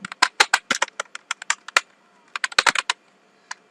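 Keys on a computer keyboard clatter in quick bursts of crisp, close clicks while a word is typed into Microsoft Word, with a short pause midway and a single final tap.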